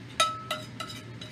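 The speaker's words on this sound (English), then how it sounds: "Let me get this frying pan out of here." A metal frying pan is moved around a small home kitchen, giving three sharp metallic clinks that ring briefly, close and fairly quiet.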